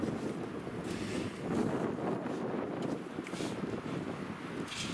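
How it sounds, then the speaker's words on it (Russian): Blizzard wind blowing across open snow in a winter forest clearing, a steady loud roar with gusty surges and broadband rushing, no voices. "По открытому-то нормально буран идет"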